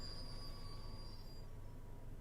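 A train in Train Sim World 2 on the Isle of Wight route brakes toward a stop, with a steady low rumble and thin high wheel squeals that fade out, faint and continuous.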